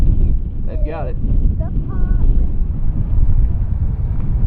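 Wind buffets a sailboat race on the water, a steady broadband rush with gusting low rumble throughout, and faint voices briefly heard early on.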